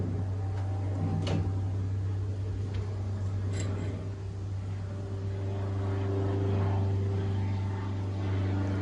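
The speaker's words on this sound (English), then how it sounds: "Apologize for the plane noise." A low, steady drone of an aircraft passing overhead at a distance, with faint clicks and taps from nearby work layered on top.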